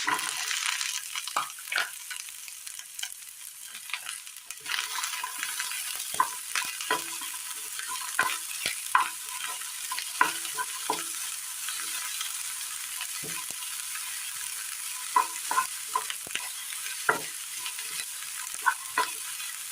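Chopped onions sauté in a pan for a Kerala recipe, giving a steady bright sizzle throughout with frequent close scraping and clicking stirs scattered across the whole stretch, no voices.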